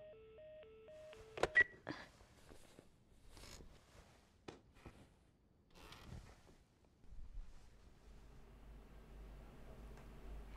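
Telephone being dialed in The Last of Us video game: a short sequence of electronic dialing tones, then scattered clicks and handling noises, followed by a low steady hum, all quiet and close.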